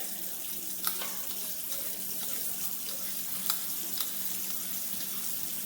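Water runs steadily from a tap over an apple being rinsed, a soft continuous splash with a few faint clicks and taps of handling near the sink.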